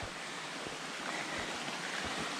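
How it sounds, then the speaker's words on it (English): A stream crossing a hiking trail on the Kinsman mountains, a soft, steady rush of flowing water with faint low wind buffeting, heard alone without talk. "There's a place where the water crosses the trail."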